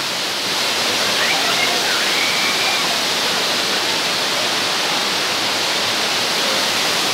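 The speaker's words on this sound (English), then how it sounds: "Water, aginod, waterfalls." Aguinid Falls waterfall rushes in a dense, continuous roar close by, a steady broadband wash of falling water with faint voices barely audible beneath it.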